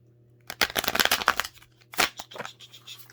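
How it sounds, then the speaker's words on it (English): A deck of tarot cards riffled and shuffled by hand at close range, with a long crisp burst of fluttering card slaps followed by a shorter second shuffle, over a faint low hum. "I fully have a couple more shuffles here."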